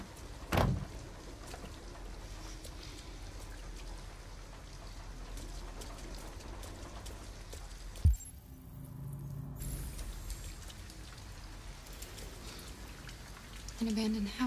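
Steady rain patters throughout a night scene in Detroit: Become Human, a soft continuous hiss broken by a sharp thud and a few brief louder noises.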